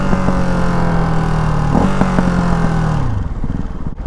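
A 2024 Ducati Hypermotard 698 RVE single-cylinder motorcycle engine drones loudly and steadily as the bike pulls through the gears. Near the end the pitch drops and the note eases off.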